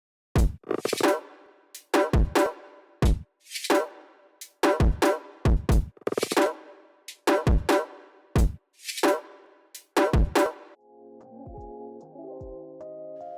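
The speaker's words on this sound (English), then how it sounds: "I only had a basic kick, a snare and a hi-hat, and some little percussion stabs here and there." A simple electronic drum beat of kick, snare and hi-hat plays with small percussion stabs in a steady punchy rhythm, ending on a brief tonal sustain and no talk.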